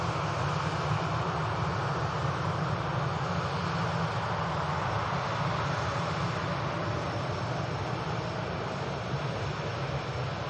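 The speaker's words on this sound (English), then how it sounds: "ITA Airways touching down on 23 right, coming in from Milan" An ITA Airways airliner arriving from Milan touches down on runway 23 right at Manchester Airport, a broad, steady roar of engine and rolling noise held at constant loudness throughout.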